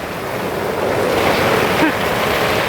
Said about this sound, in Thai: โอ้ยฝนตกอย่างหนักเลย